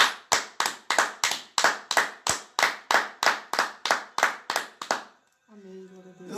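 Church congregation clapping in steady rhythmic unison, about fifteen sharp loud claps in quick succession, then stopping as a voice begins speaking.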